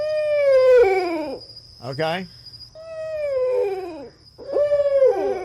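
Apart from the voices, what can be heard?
owl hooting, a real owl recording in a guessing game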